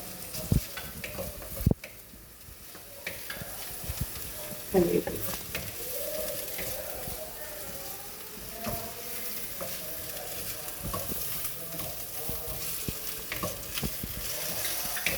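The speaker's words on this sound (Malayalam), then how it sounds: "ഇതിൻ്റെ ആ സ്മെല്ല് മാറി വരുന്നത് വരെ വഴറ്റണം" Crushed garlic, ginger, green chili and curry leaves sautéing in a pan for an egg curry, a steady close sizzle with intermittent spoon scrapes and stirring knocks throughout.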